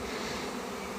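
A swarm of honey bees gathering on top of a shed fills the air with a dense, even buzzing drone, close and constant, with no voices.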